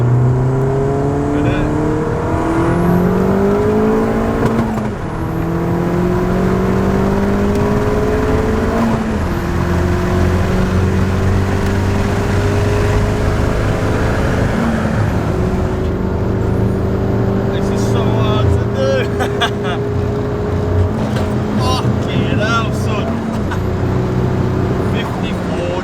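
A car engine fitted with an aftermarket intercooler revs and accelerates through repeated pulls, rising in pitch between gear changes, loud and steady throughout, with someone talking over it.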